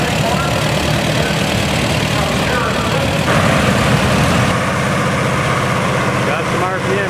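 International Harvester 1468 tractor engine revving at a tractor show, a loud continuous rough engine roar with crowd noise and people talking in the background.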